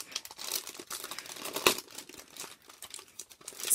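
Plastic gusseted and flat treat bags and glassine envelopes from a treat topper kit handled up close, continuous crinkling and rustling with a sharp crackle midway, no talk.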